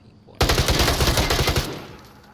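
A sustained machine gun burst in a tactical shooter match, loud and close, a rapid even rattle of shots lasting over a second before cutting off into a fading tail.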